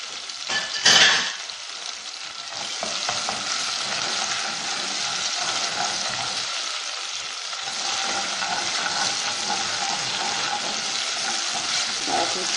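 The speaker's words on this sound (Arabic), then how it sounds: "اي اكله فيها طماطم مصبره انكم تقلوها" Canned tomato frying in a pan for a tagine pizza, a steady close sizzle running throughout with light stirring scrapes and a brief louder clatter near the start.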